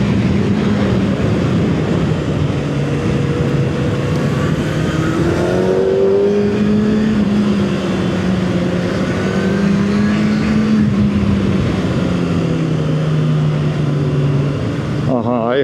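A motorcycle circles an arena track, its engine note climbing and dropping continuously as it revs through the turns, loud and close throughout.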